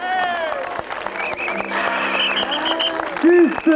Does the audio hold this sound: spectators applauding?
yes